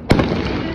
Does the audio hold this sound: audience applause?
no